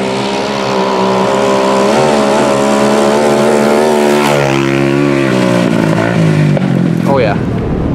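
A Yamaha Blaster ATV engine screams at its rev limiter, loud and close, a sustained high-pitched two-stroke wail that wavers and bounces off the limiter throughout, with the pitch dropping briefly before climbing again near the end.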